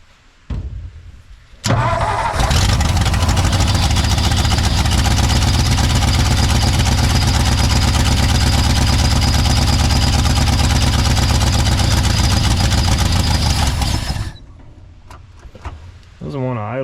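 A 1959 Ford F-600 straight truck with a Y-block engine cranks and catches, then idles loudly and roughly up close for about twelve seconds before cutting out, with a voice heard briefly around it.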